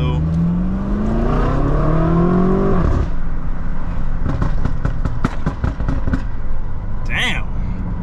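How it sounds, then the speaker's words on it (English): A BMW X5M with stock exhaust revs up loudly with rising pitch, then drops off before sharp crackling bursts; a voice talks over it. "I gotta give y'all a pool with the stock exhaust"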